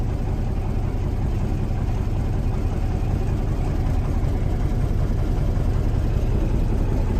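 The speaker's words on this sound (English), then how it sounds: "I just wanted to show you the gauges as we have the truck idling here." A 1990 Kenworth T600 rollback truck's engine idling steadily, a deep low rumble with a constant diesel chug, close and unchanging throughout with no talk.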